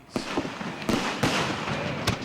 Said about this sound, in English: With every exploding light and thunderous boom